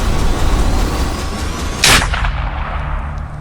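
A single sharp, loud gunshot cracks out with a brief echoing tail, cutting through a steady rumbling background.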